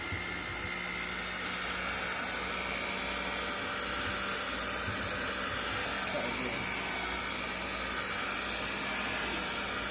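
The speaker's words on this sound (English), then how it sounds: "I'm going to go ahead and start turn the mixer on and just start mixing." An electric hand mixer beats sweet potato pie filling in a home kitchen, a steady close whirring drone that runs unbroken from start to finish.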